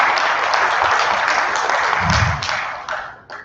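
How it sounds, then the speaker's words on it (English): An audience at the 16th ICC Mutual Fund Summit claps in a dense, sustained round of applause that holds steady and then thins out and tapers off near the end. "I think it deserves a big round of applause"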